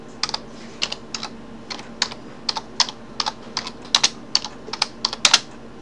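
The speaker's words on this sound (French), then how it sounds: "Ici, on va taper un texte." Fingers typing text into a Google Docs document on a computer keyboard, a run of sharp, close key clicks in an irregular rhythm with brief pauses, over a faint steady hum and no talking.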